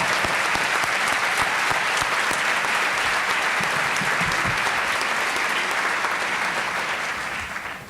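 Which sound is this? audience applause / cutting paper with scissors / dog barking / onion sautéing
audience applause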